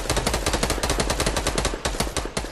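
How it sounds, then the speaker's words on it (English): Rapid automatic gunfire in a Fortnite Battle Royale match, loud, dense bursts of shots hammering on without pause and close by. "They're both just firing at you."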